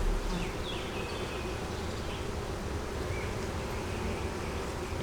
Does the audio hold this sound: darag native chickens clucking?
no